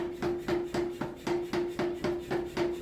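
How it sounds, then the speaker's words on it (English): A Chinese-made Runfa self-contained power hammer forge welding a tall steel billet, striking in a steady rhythm of about three loud, close blows per second. "The power hammer I use is a Chinese-made Runfa power hammer."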